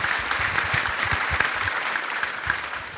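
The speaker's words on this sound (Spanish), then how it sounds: "un aplauso para todas las víctimas que están acá presentes" Steady crowd applause for victims at a reintegration gathering, dense continuous clapping from a sizeable audience, moderately loud throughout.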